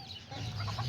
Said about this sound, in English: Yeah, right here I put all the roosters.